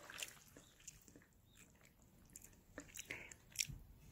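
Close, quiet crunching of homemade red radish water kimchi with sliced cucumber, crisp bites and wet chewing clicks in an irregular rhythm with no talking.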